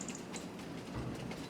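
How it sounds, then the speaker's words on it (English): A train rolls past a station in the Farming Simulator 25 video game, a steady rumble with faint rhythmic clicks and a passing swell, with no talk over it. "Can I tab into the train?"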